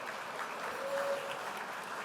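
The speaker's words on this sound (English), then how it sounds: "Give her some applause" Audience applause at a gala honoring achievement, a steady wash of clapping hands from a crowd, moderately loud and even throughout, without voices over it.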